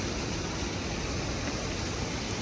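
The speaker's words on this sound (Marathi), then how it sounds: "वॉटरफॉलचा पाण्याचा आवाज किती मस्त आहे" Water rushing at Bhagirath waterfall near Mumbai, a steady, loud, even roar of falling water with no breaks.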